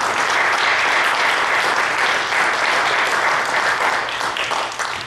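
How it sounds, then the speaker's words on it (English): A church congregation claps steadily in the pews, a dense, sustained wash of applause from many hands that stays loud throughout and tapers only slightly at the end. "Let's give them a brief hand of applause."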